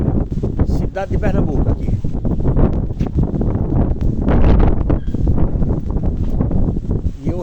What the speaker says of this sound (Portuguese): achei esse vento aqui legal e esse clima aqui